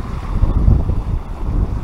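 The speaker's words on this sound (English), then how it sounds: "as the waves lap" Waves lap near a small island off Bequia in St Vincent and the Grenadines, a close, rolling low wash swelling and easing in uneven pulses with wind across the microphone.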